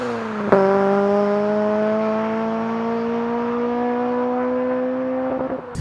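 A mapped Honda Civic Type R EP3 with a Solid Fab 3-inch exhaust accelerates hard, its engine note climbing steadily in a smooth, rising whine. The pull comes through loud and close after a short burst at the start.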